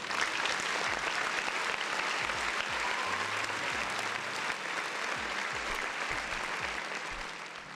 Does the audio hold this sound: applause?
yes